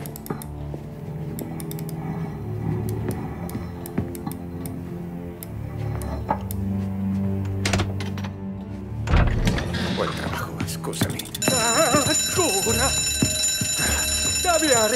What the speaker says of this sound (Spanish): ¡Esto, la alarma!